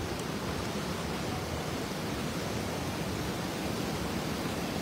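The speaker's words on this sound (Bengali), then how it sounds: "দেখো কিরকম সুন্দর ঝর্ণাটা।" A waterfall on the Lidder river in Kashmir's Lidder valley gives off a steady, dense roar of rushing water, with no voices over it.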